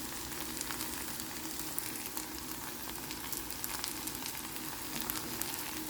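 Bitter gourd (karela) bhaji fries in a pan with a steady, low crackling sizzle that carries on evenly throughout, with no voices over it.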